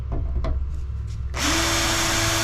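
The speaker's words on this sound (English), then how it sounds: "I just drilled some drill holes to be our guide to where we're going to cut along the line" A power drill bores guide holes through a Sprinter van panel, starting abruptly after a few soft knocks and then whining steadily and loudly at close range.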